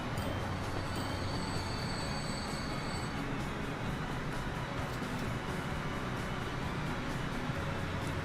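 An oil freight train rolls along in the railway game Transport Fever, a continuous loud rumble of wheels and cars with faint squealing throughout, no talk.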